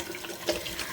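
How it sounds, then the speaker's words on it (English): Tap water runs steadily into a bathroom sink during a face rinse as part of a skincare routine, a close, continuous splashing hiss throughout. "Now I rinse."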